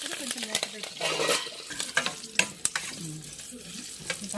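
Curry leaves frying in hot oil in a pan for a bottle gourd and moong dal curry, a crackling sizzle close up with bursts of spattering and stirring scrapes throughout.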